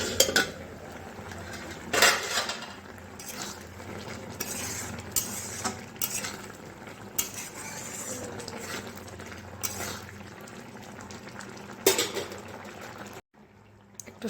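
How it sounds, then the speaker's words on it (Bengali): An okra curry cooks in a pot, a low bubbling simmer mixed with stirring scrapes and occasional clinks of a spoon and lid, fairly close and steady. "এবার ঢাকনা বন্ধ করে সিদ্ধ করে নেবো ভালো করে।"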